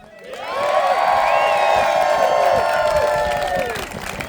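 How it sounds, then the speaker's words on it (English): A rally crowd raises a loud, sustained cheer of whoops and shouts that swells quickly, holds for about three seconds and then tapers off. "let's hear a cheer for the organizers, speakers, and yourselves"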